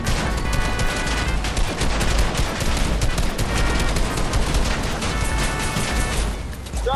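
Dense, rapid gunfire from the video game Fortnite crackles almost nonstop in loud overlapping bursts, like a sustained firefight with sharp cracks and heavy thumps.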